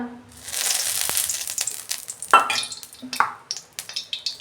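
Oil sizzles in a kadai after eggplant has been fried, crackling in bursts with spoon scrapes and stirring clatter, close and moderately loud, no speech.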